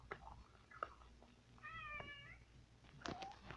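A cat meows nearby in a quiet room with several short, faint calls, including one longer, clearly pitched meow in the middle. Light chewing-like clicks are scattered between the calls.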